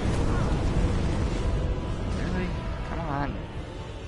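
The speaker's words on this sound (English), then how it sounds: "He's just gonna spam his fire attacks." A boss in Dark Souls Remastered unleashes fire attacks, sending out rumbling bursts and blasts in a dense, continuous roar of game effects while a player talks over it.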